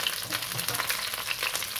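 Steady, crackling sizzle of pike fish heads frying in hot oil, continuous and close, with no voices.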